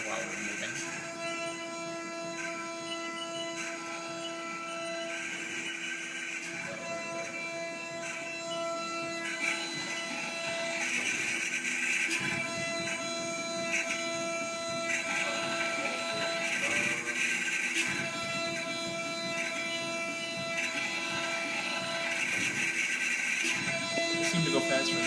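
A CNC mill runs steadily while milling an aluminum gusset, a continuous mechanical whine with a layered tonal hum and periodic swells in intensity, close and loud, with people talking faintly over it.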